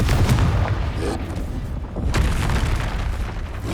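Bombarda and Confringo spells blast during a Hogwarts Legacy duel, loud heavy booms and bursts piling onto one another in a continuous rumbling barrage, with a couple of sharper hits standing out.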